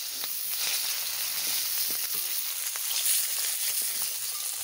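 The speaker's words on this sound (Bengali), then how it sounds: "মাছ ভাজায় তেল গরম হয়ে গেছে, আমি দিয়ে দিচ্ছি পাপিটা।" Hot oil sizzles steadily in a pan for frying tilapia fish, a continuous bright crackling hiss with small pops, close and even throughout, with no voices.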